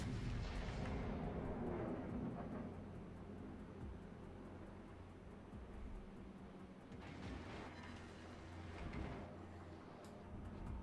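Battleship naval guns fire during a World of Warships battle with an Iowa, producing deep, rumbling booms with a long rolling tail, one heavy blast at the start and another a few seconds later.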